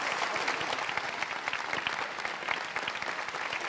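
A crowd applauds at a GT World Series 2025 motorsport event in Berlin, with dense, sustained clapping heard at moderate distance throughout.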